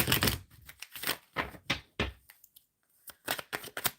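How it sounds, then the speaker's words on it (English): Tarot cards are shuffled by hand in short, crisp riffling bursts with brief pauses between them, close and fairly clear. "Shuffling for Aisha."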